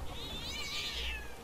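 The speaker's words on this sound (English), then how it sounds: "Your cat is not happy." Cat in the video game Sea of Thieves gives one drawn-out, wavering meow lasting about a second, clear and moderately loud over a low game background.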